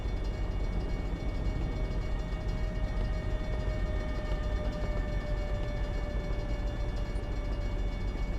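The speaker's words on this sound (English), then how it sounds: "Train's coming this way." A freight train rumbles past steadily in American Truck Simulator, a low continuous roll with faint high squealing tones from the wheels, heard alone without speech.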